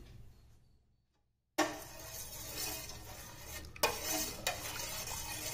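Sago papad mixture with lemon juice being stirred in a pot, close scraping and clinking strokes with a few sharper knocks against the vessel after a brief pause.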